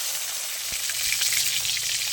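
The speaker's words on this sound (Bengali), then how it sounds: "মাথাটা একটু ভালো করে বেশি করে ভাজতে হবে" A fish head frying in hot oil, meant for a light curry with glass carp and taro, gives a steady, dense sizzling hiss that fills the whole moment without pause or voices.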